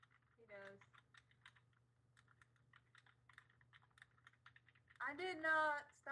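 Computer keyboard typing, a run of quick, light key clicks in an irregular rhythm, fairly faint and close, with a low hum beneath and a brief voice near the start and louder speech toward the end.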